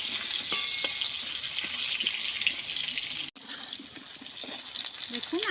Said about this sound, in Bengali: আলুগুলো ভালো করে ভেজে নিই।